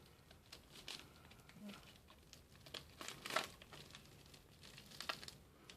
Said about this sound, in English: this security seal is actually designed to crumple if you try to remove it